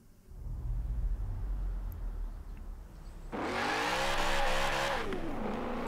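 A BMW in Forza Horizon 4 driving on a test track, the engine droning at first, then revving hard and climbing in pitch as it accelerates, loud and close with no talk.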